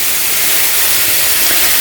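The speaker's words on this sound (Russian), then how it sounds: "Мясо жарится." Meat frying in a pan gives a steady, loud broadband sizzle that holds unbroken and alone, with no voices over it.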